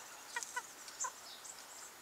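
Chickens cluck in short bursts close by, several quick clucks and squawks over about two seconds, with no talking.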